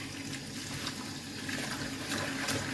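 Tap water running steadily over freshly cut carrot tops being rinsed for a salad, a soft, even splashing that continues throughout the short stretch with no talking.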